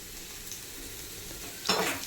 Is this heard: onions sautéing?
yes